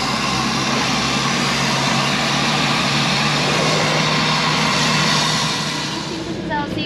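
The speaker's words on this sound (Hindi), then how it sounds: "छोटा सा प्लेन है" The engine of a small plane flying from Kathmandu to Lukla drones steadily and loudly from the cabin, a dense continuous roar that fades slightly toward the end, with speech mixed in.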